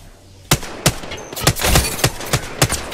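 Gunfire from the video game Apex Legends, played with the character Caustic, rings out in sharp, loud, separate shots with short irregular gaps, close and dry.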